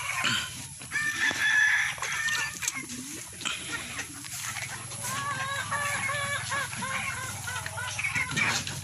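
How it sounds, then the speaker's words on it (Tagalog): Many chickens cluck and a rooster crows repeatedly while being fed in a busy farmyard, with steady background noise and scattered soft clatter. "Papakain po ko ngayon ng manok."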